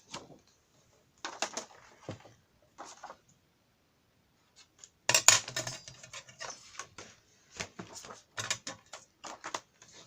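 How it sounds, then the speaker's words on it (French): Scissors handled while scrapbooking, making sparse light clicks and rustles in short bursts, then a pause, then a denser run of snips and taps close by, with no talking. "Alors, les ciseaux."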